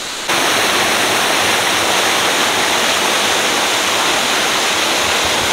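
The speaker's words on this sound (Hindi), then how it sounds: "यहाँ से पानी निकल रहा है बहुत ज़्यादा पानी है यहाँ पे" Heavy flow of water rushing from a waterfall stream near a watermill in Solan, Himachal Pradesh, a loud constant broadband roar starting abruptly and continuing steadily, with no voices.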